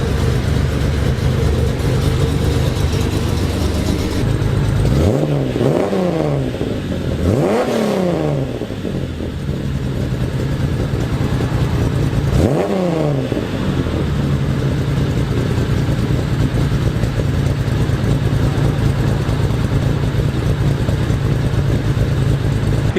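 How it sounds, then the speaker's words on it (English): A Nissan Skyline Kenmeri GC111 runs shortly after a cold start, idling steadily up close and then revving sharply three times, with each blip rising and falling back to a settled idle, and no one speaking. "So it starts up nice and easy, and it's still relatively cold too"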